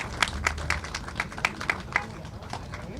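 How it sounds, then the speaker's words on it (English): Sparse, scattered clapping from a small group at a mural ribbon cutting, a handful of distinct claps spread over a few seconds at moderate loudness. "give him a big round of applause"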